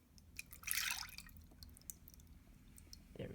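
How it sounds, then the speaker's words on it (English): Oobleck slime mixture poured into a bigger bowl, giving a brief wet splattering pour near the start that fades into soft, quiet dripping and squishing. "so you pour it into a bigger bowl"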